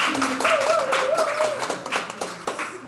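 A live audience at a podcast recording in a zero-waste shop claps in a quick burst of applause, with scattered individual claps standing out. Someone speaks briefly over the clapping.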